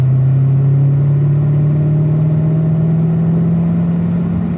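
A car accelerating uphill on the Spring Mountain Motorsports Resort race track, its engine holding a loud, steady drone with pitch climbing slowly and evenly, no voices over it.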